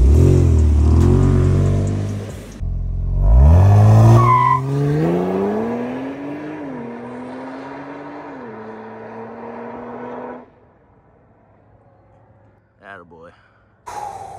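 A 2023 Kia Stinger GT2 launches hard from a standstill with a brief tire squeal, its engine note climbing steeply through several gear shifts before fading away. People talk loudly nearby during the first seconds.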